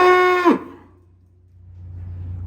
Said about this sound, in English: You got a bigger moo, huh?